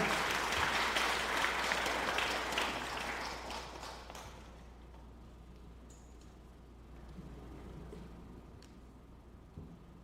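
Church congregation applauding during a Sunday worship service, loud clapping from a crowd for about four seconds, then fading into quieter room ambience with faint background noise.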